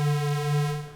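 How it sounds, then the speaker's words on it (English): Arturia MicroFreak synthesizer in Unison mode at its default spread of 0.123, a single sustained, slightly thickened buzzy note with subtle wavering, held for about a second before fading, alone without talk. "there's a default setting for the Unison spread of"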